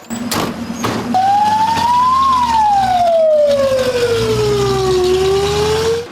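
A fire engine siren wails loudly and steadily, rising and slowly falling in one long sweep, as a fully equipped crew leaves on a call, with truck engine rumble underneath.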